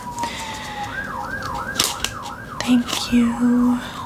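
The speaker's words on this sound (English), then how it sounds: "Siren, for disrupting my video." Wailing emergency siren outside, rising and falling in repeated sweeps at moderate distance, with soft plastic handling and a brief spoken voice nearby.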